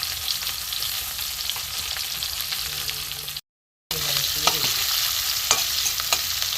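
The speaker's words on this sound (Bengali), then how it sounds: "পেঁয়াজটা একটু ভাজা করে ভাজা হোক।" Onion frying in a pan with a little oil for a light catla fish curry, a constant close hiss of sizzling with occasional spatula scrapes as it is stirred, briefly cut to silence midway.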